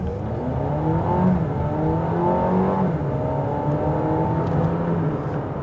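Family SUV, a Mercedes-Benz GLB or VW Tiguan Allspace, accelerating from inside the cabin: a steady engine drone with rising harmonics blends with loud wind rush, continuous and fairly strong throughout.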